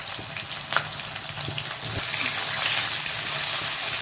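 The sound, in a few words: pointed gourd frying in oil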